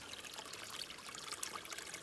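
Water pours and trickles steadily from a ground pipe at a spring below an Appalachian Trail shelter, a continuous close splashing hiss with no talk.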